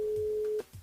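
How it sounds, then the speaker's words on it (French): A telephone busy signal during a call from a radio station, one steady tone that cuts off abruptly, followed by a faint line noise. "On rappelle Elodie pour savoir si elle a relevé quand même le challenge"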